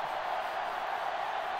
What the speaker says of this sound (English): Crowd going crazy here tonight already.